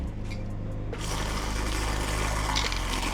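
A Super Whisk blends whey protein powder with water at high speed, giving a steady, loud motorized whir that stays constant throughout, with no talking.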